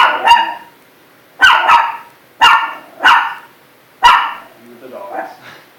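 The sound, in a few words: dogs barking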